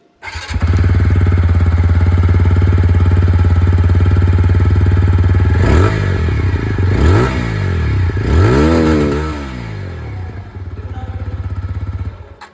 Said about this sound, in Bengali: আপনাদেরকে এক্সস্ট সাউন্ডটাও একবার এখানে শুনিয়ে দিই